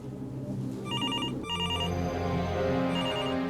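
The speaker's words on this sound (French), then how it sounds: "Derrière lui, la sonnerie du téléphone retentit." A telephone in a hotel room rings in repeated short electronic trills over a steady low hum, the ring bursts loud and regular.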